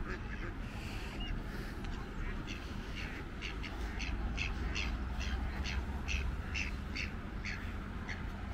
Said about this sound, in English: Just woke the female mallard up there.